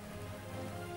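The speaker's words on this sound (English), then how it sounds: "This rain isn't making things any more pleasant, Bruner." Steady rain falling in the fantasy video game Idle Champions of the Forgotten Realms, a dense, even hiss with a low hum beneath, continuous for a brief moment with no talking.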